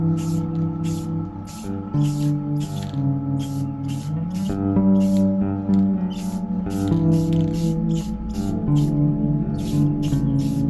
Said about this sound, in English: Puffing that spray paint.